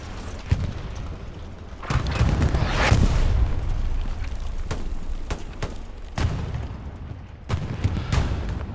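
Loud explosions from a bombing run shake a Hell Let Loose battle at Carentan train station, several deep booms with rolling rumble in between and scattered gunfire.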